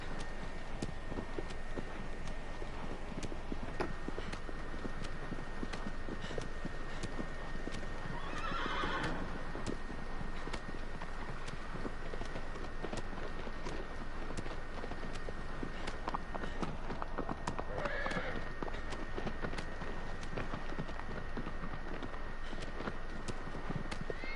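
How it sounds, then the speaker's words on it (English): Horse in the game Shadow of the Colossus galloping with steady, continuous hoofbeats over a constant rushing background, with two short whinnies heard along the way. "Good horse."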